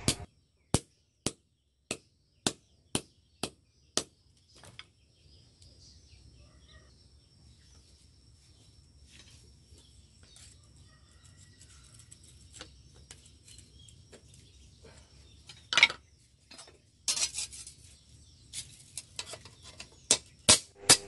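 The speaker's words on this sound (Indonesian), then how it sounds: "sekarang adalah proses untuk menipiskan besi, tapi menggunakan tukul yang lebih kecil" A small hammer strikes iron while a rubber-tapping knife is forged. The clip opens with a steady run of sharp, ringing blows, falls quiet in the middle, then closes with more scattered strikes.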